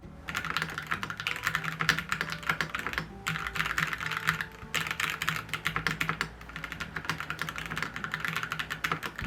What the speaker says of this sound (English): I was pretty surprised by the sounds of the keyboard. It actually sounds decent.